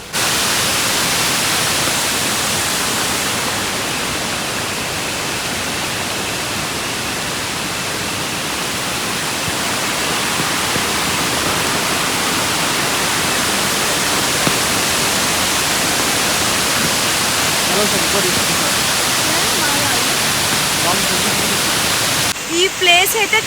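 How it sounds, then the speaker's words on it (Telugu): A natural waterfall inside a resort in Coorg pours as a dense, unbroken broadband roar, loud and steady throughout. "సో మీరు వాటర్ ఫాల్ సౌండ్ వినొచ్చు."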